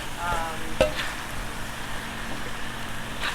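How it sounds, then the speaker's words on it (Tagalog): Boiled, drained laing leaves stirred in a frying pan, a soft sizzle with scraping and clinking of a utensil against the pan, close and fairly quiet. "haluin lang natin."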